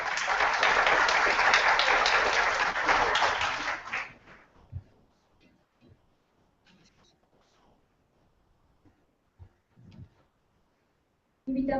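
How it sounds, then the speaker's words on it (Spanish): A conference audience at a neuroscience meeting in Ecuador gives a loud burst of steady applause for about four seconds, which then fades into near quiet with a few faint knocks. "Un aplauso para él."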